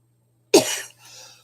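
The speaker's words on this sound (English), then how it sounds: "I don't know why I'm coughing" A single sharp cough right after a silence, followed by a softer, breathy trailing cough, close to the microphone from a lone speaker during a live spiritual talk.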